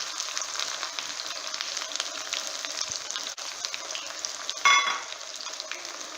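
Mustard seeds and thinly sliced shallots frying in hot oil for a raw mango curry, a steady close sizzle with no talk and a brief louder crackling burst near the end.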